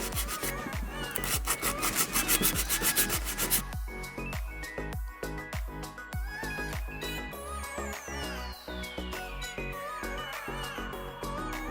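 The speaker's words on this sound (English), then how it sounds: "Once I'm done filing the sides, I'm going to grab the file and I'm going to run it through just like this." A nail file scrapes back and forth across sculpted artificial nails while shaping them, a close, steady run of quick rasping strokes, rapid at first and then slower and evenly spaced.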